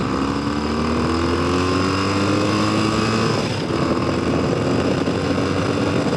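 A BMW R100GS Paris Dakar motorcycle pulls hard through second gear, its engine note rising steadily in pitch, loud and close with wind roar, briefly dipping mid-run before climbing again.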